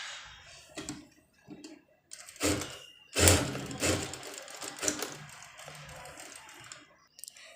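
A sewing machine stitches the neckline of a dress made from an old saree, working in short, quiet bursts of rapid ticking and clattering with pauses between, close by and without talking.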